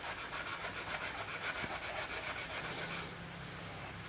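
A steel chisel is rubbed back and forth on an abrasive to remove rust, producing steady, close rasping strokes in a regular rhythm that ease off near the end.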